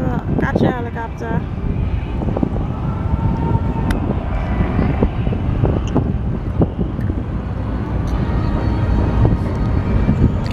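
Helicopter flying overhead outdoors near a bridge, a continuous loud rumbling drone mixed with wind buffeting on the microphone and occasional chirps and clicks, with people talking nearby.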